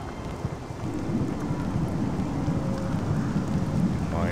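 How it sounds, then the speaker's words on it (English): Rain in a video game along the Bitter Coast near Balmora: a steady, even hiss of rainfall with low rumbling underneath, continuous and fairly loud for the whole stretch, with no one talking. "It's raining again."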